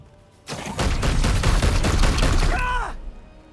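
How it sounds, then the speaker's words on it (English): Sustained gunfire rattles in the game Warhammer 40k: Chaos Gate Daemonhunters, a loud dense burst of rapid shots lasting about two and a half seconds, ending with a whining mechanical tone. "Opening fire."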